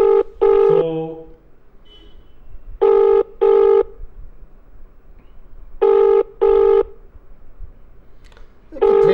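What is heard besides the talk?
telephone call being dialed and ringing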